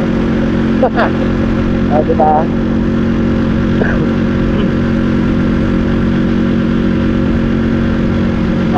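A motorcycle runs steadily on a morning ride toward the sea, engine droning at an even pace with wind noise, while a few brief spoken words come through near the start.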